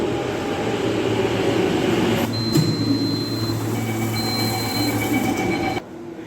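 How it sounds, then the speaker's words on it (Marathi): A metro train rolls into a station bound for Motera cricket stadium, with a steady low rumble and faint high whines, then the sound cuts off abruptly near the end. "बारा चारची ट्रेन आहे तर नाही बघा आली"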